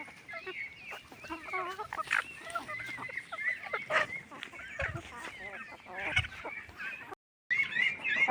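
Hens and larger chickens pecking and foraging for scattered rice grains in a poultry shed while it is cleaned, with steady close clucking, honk-like calls and busy scratching throughout, broken by one brief silent gap near the end.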